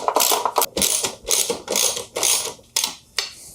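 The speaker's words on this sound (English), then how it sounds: "we'll have to torque things down with our torque wrench" Ratchet-style torque wrench tightening rear shock bolts on a Yamaha XSR700 motorcycle during a K-Tech Razor R shock install, giving six loud, close bursts of rapid clicking separated by brief pauses.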